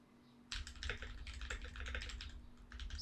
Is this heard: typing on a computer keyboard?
yes